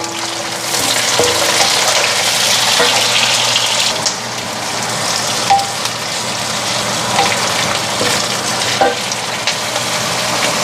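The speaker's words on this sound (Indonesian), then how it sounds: "aku tumis jahe dan bawang putih, ditumis dulu sampai layu" Ginger, garlic, shallots and onion sauté in a hot pan with a loud, steady sizzle and occasional stirring scrapes, close and continuous with no talk.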